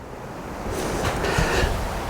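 Strong wind gusting across a golf course, a broadband rumbling buffet against the microphone that swells louder partway through and stays heavy to the end, with no voices.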